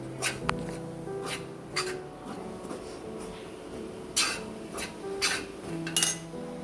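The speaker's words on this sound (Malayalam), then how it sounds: "തേങ്ങ കുറച്ചൊന്ന് മൂത്ത് വരുമ്പോഴത്തേക്ക് നമുക്കൊരു രണ്ട് തണ്ട് കരിയാപ്പിലയും കൂടെ അതിനകത്തോട് ചേർത്ത് കൊടുത്തിട്ട് നന്നായിട്ടൊന്ന് വറുത്തെടുക്കാം" Grated coconut and curry leaves roast in a pan for prawn theeyal, with close, irregular clinks and scrapes of a utensil stirring against the metal, under soft background music.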